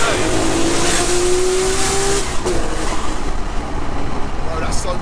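A Nissan R34 GT-R with an 800 bhp 2.8-litre stroker engine revs hard under load as a continuous, loud rising drone heard from inside the cabin, with a slight dip partway through.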